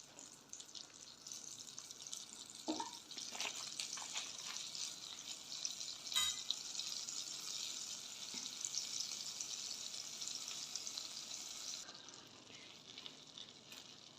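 A spoonful of butter melts and sizzles in a pan on a gas stove, a soft, steady hiss with a few brief clinks and knocks early on, fairly quiet and close.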